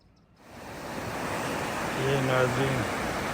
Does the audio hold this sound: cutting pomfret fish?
no